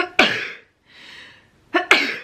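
Two sharp, close sneezes from a woman burst out with a quiet breathy pause between them, the second coming as a quick double burst.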